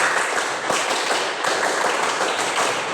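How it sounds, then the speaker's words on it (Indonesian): A group performs the rhythmic tepuk pramuka scout clap during a school lesson, with participants in scout uniforms: loud, dense, close-up clapping in quick, steady patterns with no pauses. "kita coba tepuk pramuka"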